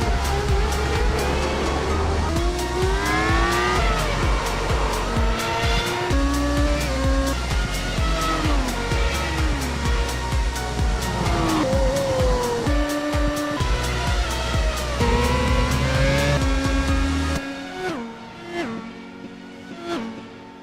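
Race cars in the iRacing Grand Prix Series at Sebring, a loud, continuous, multi-car engine roar with shifting pitch sweeps as the field pours into turn one, then dropping away abruptly near the end.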